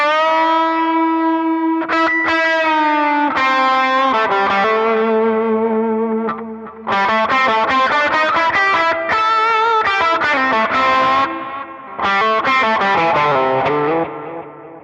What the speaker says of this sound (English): So I'm using this Roy Blues delay patch here